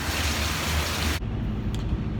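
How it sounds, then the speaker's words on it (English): Heavy rain pours down around a truck, a dense, steady hiss of downpour that cuts abruptly partway through to a duller, muffled wash of rain, loud and continuous throughout. "So much rain."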